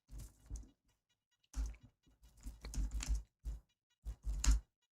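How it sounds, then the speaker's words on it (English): Bursts of quick typing on a computer keyboard, close and fairly quiet, with short pauses between clusters of clacking keystrokes. "You can hear me typing."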